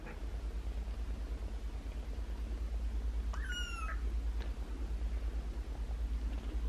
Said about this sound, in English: All kittens think that Nick is their mom